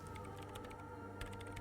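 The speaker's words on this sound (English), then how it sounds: "And she's typing." A woman types on a radio computer keyboard in Disco Elysium, quiet clusters of clicking keystrokes that fade briefly, then resume over a low steady hum.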